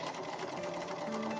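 Sewing machine running steadily, stitching a gathered sleeve cuff onto a costume; a continuous, close whirring hum with no talk.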